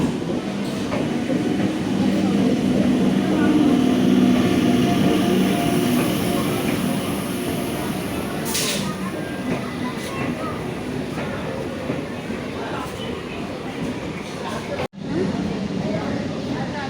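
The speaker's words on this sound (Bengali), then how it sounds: "আমরা ট্রেনে উঠে বসেছি আর ট্রেন ছেড়েও গেছে" A direct train from Bagbazar to Krishnanagar pulls away and runs on, heard from inside the carriage. A loud continuous rumble and wheel clatter fill the whole stretch, with voices talking underneath.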